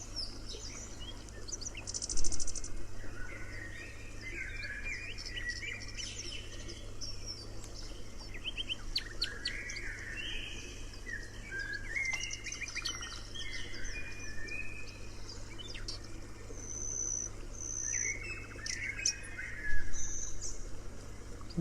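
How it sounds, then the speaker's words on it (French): Birds chirping and tweeting as a sound effect in a children's story, scattered bright calls coming and going over a steady low hum, fairly soft and continuous for the whole stretch. "je peux apercevoir tous les oiseaux qui s'envolent et qui me regardent"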